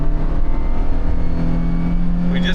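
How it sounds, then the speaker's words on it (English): A junkyard-rescued first-generation minivan accelerating at full throttle, its engine droning loud and close with a steady rising hum and no talking. "I'm flooring it now."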